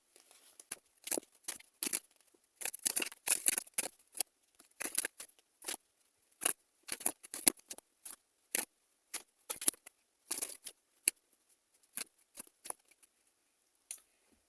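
Tarot cards handled and shuffled close up in a quiet room, with soft papery riffles, taps and rustles coming in irregular bursts and short pauses.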